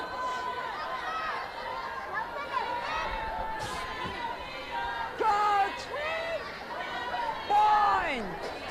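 Crowd cheering and whooping at a women's rugby match between Hong Kong and Kazakhstan at the Asia Rugby Women's Championship, a steady roar of voices with sharper yells rising near the end, mixed under a commentator's talk.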